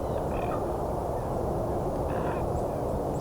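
Two short, harsh calls from a raven somewhere ahead, sounding faint and distant, rise over steady outdoor noise during a winter bird count as the sun comes out.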